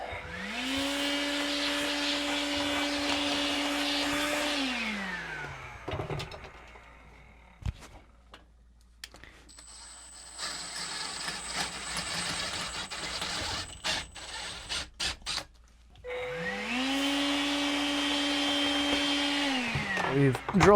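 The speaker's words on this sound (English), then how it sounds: "And vacuum as we go." A vacuum cleaner motor whines steadily aboard a boat during woodwork, cuts off, then hisses with clattering and a high tone before the vacuum roars back up loudly near the end.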